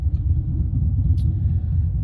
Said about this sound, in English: Yeah, there's a lot of traffic.